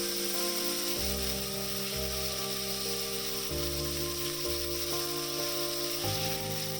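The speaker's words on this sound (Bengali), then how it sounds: "একটি কড়াইতে দিয়ে দিব সামান্য তেল আর তারপর পিস করা মাংসগুলো ভালো করে ভেজে নেব" Marinated chicken pieces frying in a little oil in a wok give a steady, close hiss and crackle of sizzling, continuous and fairly quiet, with soft background music playing underneath.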